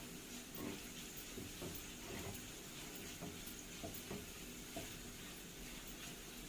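Kushari ingredients, Alexandrian style without chicken or meat, frying and sizzling in a pan as they are stirred, a steady close hiss with soft scraping strokes throughout and no talking.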